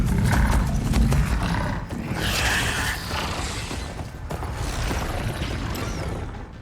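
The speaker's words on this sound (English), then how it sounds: "They're riding machines!" Tribal riders charge on mechanical beasts in Horizon Forbidden West, a dense roar of creaking, grinding machine noise and animal-like growls that stays loud and continuous, with no voices.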